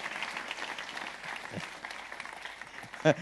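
A church congregation claps and praises the Lord in a steady patter of applause filling the room, with a voice speaking over part of it and a short louder sound at the end.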